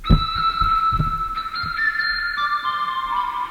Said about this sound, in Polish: Z gwizdania zrobiłem coś, co przypomina flet